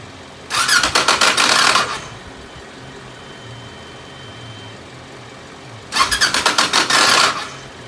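A 2007 Kawasaki Ninja 650R with fuel injection cranks in two harsh bursts of about a second and a half each, a rapid grinding chatter that fails to catch, with a quiet pause between.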